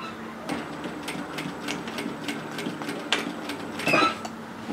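A sewing machine back tacks then stitches onward, with short bursts of rapid needle clatter separated by brief pauses and a louder run near the end, close and without talk.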